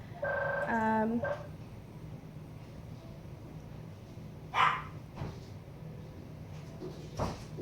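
A telephone rings with a short electronic trill, followed by quiet room noise and a few faint knocks and brief sounds.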